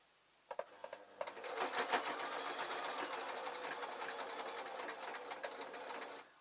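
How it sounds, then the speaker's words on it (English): A sewing machine stitching fabric for a skirt, starting with a few slow clicks and then running in a fast, steady close rattle of rapid stitches. "I'm going to keep on sewing."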